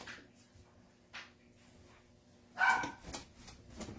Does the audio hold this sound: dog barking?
yes